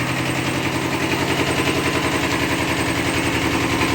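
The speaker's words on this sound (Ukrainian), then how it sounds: "Ну, Звісно, нагріть дізеля в такий мороз." A Kubota B5001 mini tractor's diesel engine runs in freezing -10° frost, a loud, rapid, evenly pulsing clatter that holds steady throughout with no speech.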